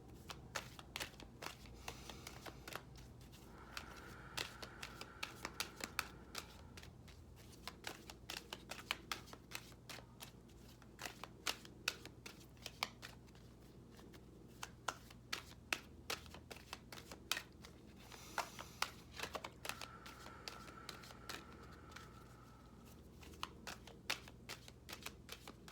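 Numerology guidance cards shuffled quietly in a steady run of soft, rapid riffling clicks and flicks that keeps going throughout, with no voices.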